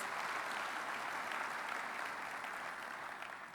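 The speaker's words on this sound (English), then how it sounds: "Can we give a round of applause?" Steady applause from an audience at a summit opening ceremony for a youth event in Africa, a dense, even wash of clapping sustained throughout and fading slightly toward the end.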